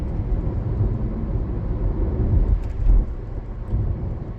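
A dense, steady roar of heavy rain with a low rumble swelling briefly near the end.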